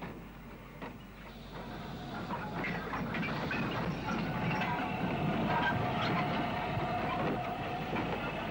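U-Class 4-4-0 steam locomotive shunting in a Belfast goods yard, a steady broadband rumble and hiss with soft rhythmic chuffing and faint clanks, moderately distant and continuous throughout.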